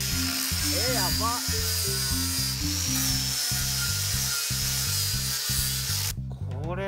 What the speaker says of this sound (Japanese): そのためにディスクグラインダーをね、準備しました